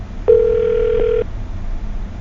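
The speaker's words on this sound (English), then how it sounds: "I'm gonna dial her phone number right now" A single steady telephone tone sounds for about a second, loud and close, as a phone number is dialed, followed by quiet line hiss.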